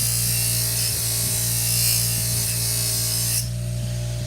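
Scissors are ground on an aggressive grinding wheel with a steady, hissing whine over a constant motor hum, close and without talk, stopping suddenly near the end while the motor keeps running.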